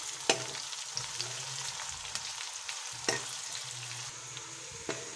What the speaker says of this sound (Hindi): प्याज और मिर्ची को अच्छे से फ्राई करेंगे।